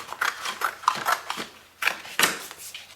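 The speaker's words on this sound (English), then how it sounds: "So just take my scissors and I just cut this out" Scissors snip through a thin paper cupcake wrapper in a quick series of crisp, close cuts, with brief pauses between the strokes.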